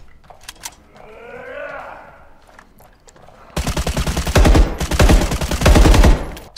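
Rapid automatic gunfire from the zombie shooter video game The Day Before, loud dense bursts filling the second half after quieter game sounds and a voice earlier.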